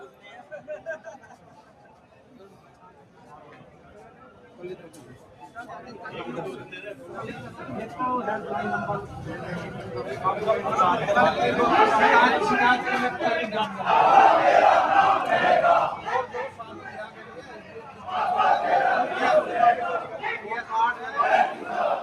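Protesters at a sit-in outside a tehsil office in Modinagar shout slogans against Ujjivan Bank. The chanting swells from a quieter murmur into loud, dense crowd shouting, with babble and voices throughout.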